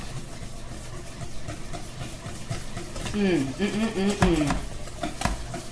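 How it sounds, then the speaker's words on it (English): A whisk beats a sugar mixture in a bowl, a soft continuous scraping and stirring with a faint metallic rattle, while a voice talks over it. "I'm going to get my whisk out so I can get this blended together really well"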